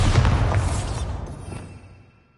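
A Bombarda exploding spell in the Hogwarts Legacy video game, one loud, close, low boom that rumbles and fades away over about two seconds.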